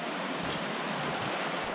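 Roaring rush of a high, fast-flowing river swollen in Lydford Gorge on Dartmoor, a dense, steady broadband wash of churning water close by, with no voices over it.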